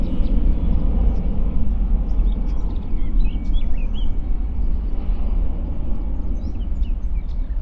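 Airliner climbing away after takeoff at Stansted Airport, a loud, steady low engine roar filling the whole stretch, with faint birdsong chirping above it.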